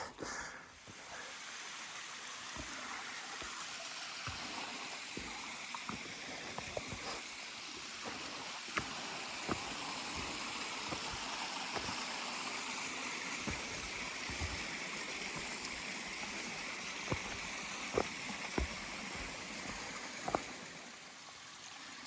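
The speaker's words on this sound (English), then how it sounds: "Seems like most of the climb hugs this little brook." A small mountain brook flows beside a hiking trail on the Appalachian Trail, a soft continuous trickle and babble of water with scattered sharp clicks and taps over it, moderately quiet and without speech.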